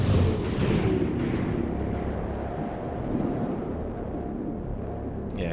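A heavy gunshot booms in XCOM: Chimera Squad and rolls away into a long, fading low rumble, with a faint click near the end.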